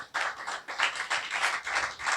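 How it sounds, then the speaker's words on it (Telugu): Congregation clapping hands together at a church service, a steady run of sharp claps repeating in a quick rhythm, moderately loud and close, with no talking over it. "అక్కడికి చప్పట్లు కొట్టాలి అందరూ ఒకసారి."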